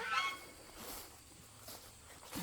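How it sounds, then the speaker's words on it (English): Geese honk faintly at a farm while being fed outdoors. A short call sounds at the start, followed by soft scattered squawks against quiet background noise. "And crazy geese."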